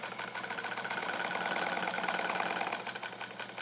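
A restored Necchi Supernova BF shuttle sewing machine runs steadily at higher speed, a dense, rapid mechanical clatter with a fast regular beat, loud and close, with no talk.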